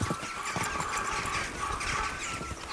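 A horse gallops in Kingdom Come: Deliverance 2, with rapid, steady clip-clop hoofbeats up close over a continuous rushing background.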